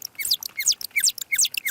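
Humpback whale song sped up fourteen times, turned into rapid bird-like chirps and sweeping whistles that repeat in a fast rhythmic pattern, clear and close with no talking.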